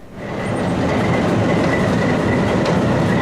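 An Alberni Pacific Railway train led by a CPR RS3 diesel rolls along the rails with a loud, steady rumble and rhythmic wheel clatter, a faint high squeal running through it, with no voices.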